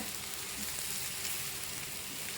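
Onions with a single chilli soften in a pan for egg thokku, giving off a steady, even sizzle that holds without a break, with no talking.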